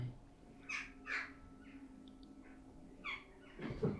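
Crows caw several times at a distance, harsh calls spaced irregularly over a quiet background with a faint low hum.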